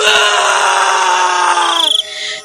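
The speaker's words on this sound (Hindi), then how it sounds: "उसकी चीख निकल जाती है" A woman's loud, sustained shrill scream of horror in a Hindi horror story, holding steady for about two seconds before cutting off into a quieter tail.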